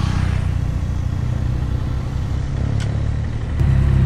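A motorcycle with a loud exhaust rides close behind a CG125 on a congested road out of town, its engine a steady low drone that swells slightly near the end.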